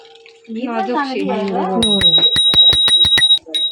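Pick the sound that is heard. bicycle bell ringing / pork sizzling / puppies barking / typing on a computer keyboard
bicycle bell ringing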